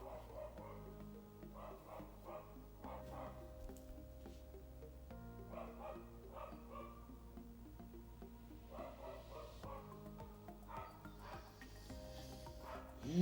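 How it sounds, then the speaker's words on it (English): A dog barks in repeated bursts in the background indoors, fairly faint, with a steady tonal hum underneath and short gaps between volleys. "But nobody is saying anything to the dog, which is barking."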